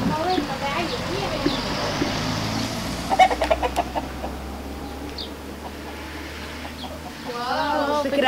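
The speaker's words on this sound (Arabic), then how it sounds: "en nourrissant les poules pondeuses d'un poulailler" Chickens clucking in a laying-hen coop, scattered close clucks and calls over a background of voices talking, with a brief cluster of sharp clattering sounds partway through.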